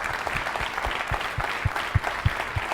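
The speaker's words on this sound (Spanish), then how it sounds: "Denle un fuerte aplauso a la palabra." A church congregation gives a warm round of applause, a dense, steady patter of many hands with distinct individual claps standing out, heard close and fairly loud.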